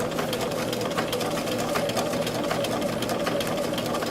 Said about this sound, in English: And again, you're stitching on the outside of your line that you put in for reinforcement.